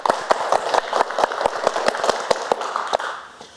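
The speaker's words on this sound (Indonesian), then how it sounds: "Tepuk tangan dong!" Studio audience clapping to welcome the guest Mochi Pink Punk on a talk show, sharp, fairly even claps in a steady rhythm, close and moderately loud, with no voices over them.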